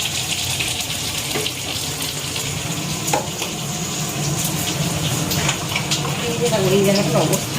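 Fish curry cooks with potatoes and onions frying in a home kitchen, giving a steady sizzle and bubbling with occasional stirring clinks, while faint running water and a voice are heard in the background.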